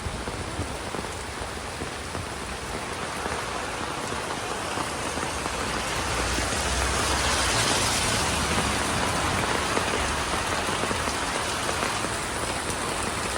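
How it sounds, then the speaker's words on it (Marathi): Torrential rain pours over a Pandharpur market street before Dussehra, a thick, continuous roar of water on surfaces that swells slightly midway and carries on steadily for over thirteen seconds. "खूपच मोठा पाऊस चालू आहे"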